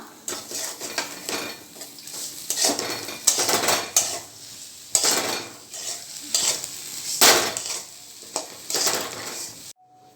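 A metal spoon scrapes and clanks against a pan as sprouted mung bean poriyal is stirred, giving irregular rhythmic clatters with a light sizzle underneath and no talking.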